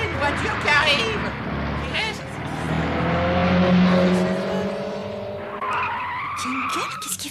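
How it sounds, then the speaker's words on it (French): A car approaches with tires skidding and squealing and an engine revving loudly, rising to a close pass and fading, with excited voices talking over it. "Regardez une voiture qui arrive."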